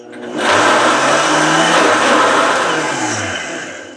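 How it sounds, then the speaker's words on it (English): Vacuum blender whirring loudly through a thick black sapote mixture, a steady motor roar that ramps up, holds high for about three seconds, then begins to ease off. "Now, I only recommend you guys do this in a vacuum blender"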